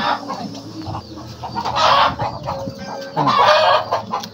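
Native chickens cluck loudly and close by in repeated bursts, with a few fowl calls rising over the noise.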